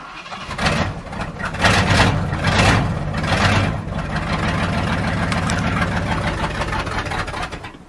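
An old Ford F350 truck engine, abandoned for 28 years, cranks a few times, then catches and settles into a steady, rough idle, close and fairly loud.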